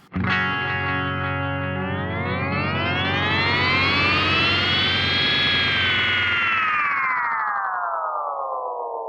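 A Boss RE-202 Space Echo pedal producing a loud, distorted synth-like tone with dense repeating echoes that sweeps upward in pitch, swells, then slowly glides back down, sustained throughout with no talking.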